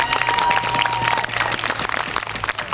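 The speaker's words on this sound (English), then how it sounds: "Can we get a round of applause for Christy and Ryan for putting this on again?" Crowd applause at a medical marijuana rally in Altoona, Pennsylvania: dense, steady clapping from many hands filling the whole stretch, loud and continuous with no voices over it.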